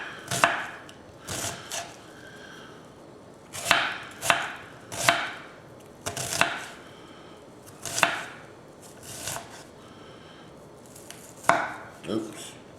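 A knife dices eye of round beef on a cutting board in quick clustered bursts of crisp chops, separated by short pauses, close and clear with no talking.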